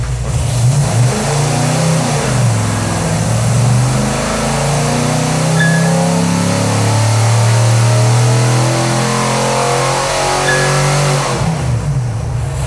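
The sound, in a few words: hot rod big block engine revving on a dyno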